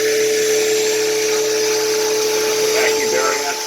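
A machine pocketing out the inside of a vacuum pump jig gives a loud, steady high-pitched whine with a constant tone that holds without a break.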